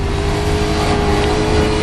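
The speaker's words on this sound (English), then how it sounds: "as the cars set off 4 at a time, it's a chance to put the foot down and go absolutely flat out" Dakar rally cars launching flat out four at a time at the 2018 event make a loud, dense, continuous engine roar that fills the whole moment with strained, high-revving growl and no pauses.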